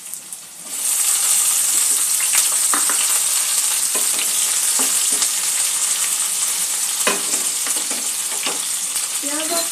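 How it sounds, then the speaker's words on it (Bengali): Onion and tomato hit hot oil in a pan and burst into a loud, close, continuous sizzle that holds steady, with occasional stirring scrapes and no talk. "পেঁয়াজটা একটু ভেজে নেব।"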